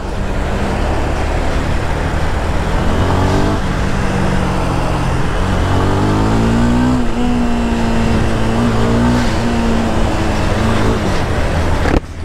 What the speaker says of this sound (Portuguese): A gente amacia a moto assim